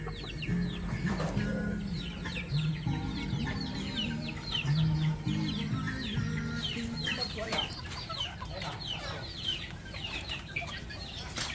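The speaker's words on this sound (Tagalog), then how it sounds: "Dito may manok dito. May manok dyan." Several chickens cluck and squawk nearby in a busy farmyard chorus, with birds chirping over a steady background din.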